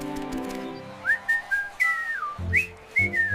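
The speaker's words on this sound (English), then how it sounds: "W for whistle, happy sound." A person whistles a bright, wavering melody with rising and falling glides, clear and close, with no talking.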